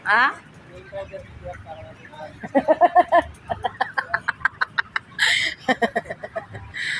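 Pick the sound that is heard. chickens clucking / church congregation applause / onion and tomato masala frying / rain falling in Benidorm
chickens clucking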